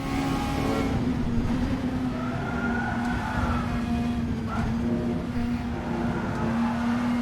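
A steady engine drone with a constant pitch and a faint whine above it, continuous and unvarying throughout, from a super touring race car in Assetto Corsa.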